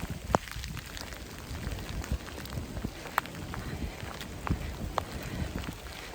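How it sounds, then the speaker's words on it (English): Steady rain falling on the Appalachian Trail, a constant soft hiss with scattered close patters and taps, as if drops are striking gear, and no talking. "I don't think this rain's letting up anytime soon here"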